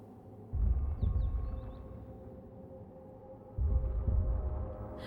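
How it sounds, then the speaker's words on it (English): A mysterious heartbeat in Dragon Age: Inquisition pulses low and muffled, two clusters of deep thumps separated by a quiet humming pause. "there is some mysterious heartbeat noises going on"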